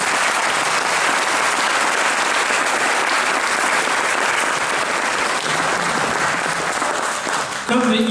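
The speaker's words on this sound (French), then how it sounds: "Sous vos applaudissements." An audience applauding after a tango performance, sustained dense clapping that fills the room, with a few voices rising at the very end.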